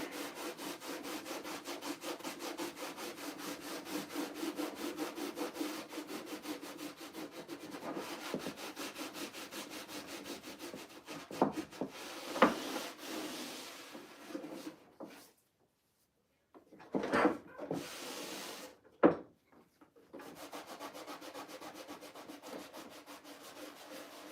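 Painted wood being rubbed back by hand in steady, close, rhythmic scraping strokes for a long stretch, then a few short pauses and louder scuffs and knocks near the end, with no talking.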